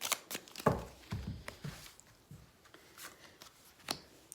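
Tarot cards being shuffled and handled for a reading, with soft papery riffles and taps in a quiet room, close and fairly faint, with no talking.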